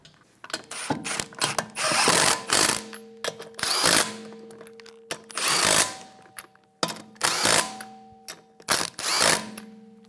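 A power tool snugs down lug nuts on the rear wheel of a 2013-2017 Honda Accord during a brake job, close and loud, in several whirring, ratcheting bursts separated by short pauses.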